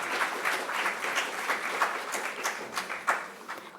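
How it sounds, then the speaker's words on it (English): An audience at a book launch applauds Sharmila Tagore with sustained clapping from many hands, moderately loud and dense, pulsing slightly without fading out. "Can we have a huge round of applause for her?"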